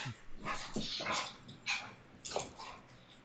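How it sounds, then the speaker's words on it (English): Dogs fighting, with a run of barks and snarling growls that sound close and fairly loud, coming in uneven bursts with short gaps between them. "Dogs are fighting."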